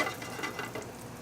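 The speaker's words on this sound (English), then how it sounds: "Chanterelle mushrooms first. Now you're just going to brown these? Just going to saute these lightly" Chanterelle mushrooms sautéing lightly in a hot restaurant pan make a soft, steady sizzle, faint and close, brief and without any talk.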